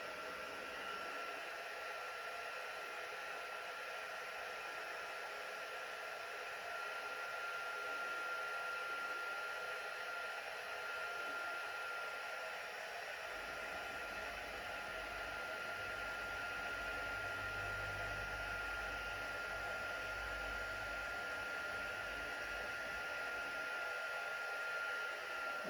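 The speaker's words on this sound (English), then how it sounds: "I'm going to just quickly heat emboss this." A heat embossing tool blows a steady, loud whooshing roar while heating clear embossing powder on a card, continuous throughout with small shifts in the low rumble.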